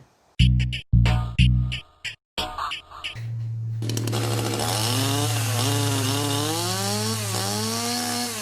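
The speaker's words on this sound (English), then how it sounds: "who allowed some guy with a chainsaw outside my cell?" A chainsaw starts with a few choppy pulls and sputters, then settles into a loud, steady buzzing drone whose pitch rises and falls as it revs.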